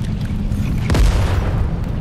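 A deep, rumbling explosion in LEGO Fortnite erupts about halfway through, standing out over a steady low roar of game background noise.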